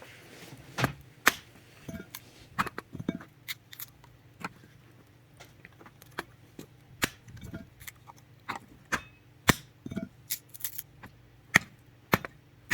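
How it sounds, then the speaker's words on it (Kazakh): Firewood is split for an outdoor cooking fire, giving a scattered series of sharp, irregular cracks and knocks, fairly faint and spaced a second or so apart, with no talking. "ағашымызды жарып аламыз"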